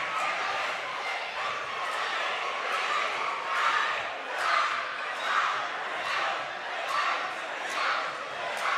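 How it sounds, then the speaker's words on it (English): A loud, sustained roar from a basketball crowd at a boys' high school game, Detroit Denby against Detroit King, rising and swelling in waves throughout without a break. "the crowd's really into it"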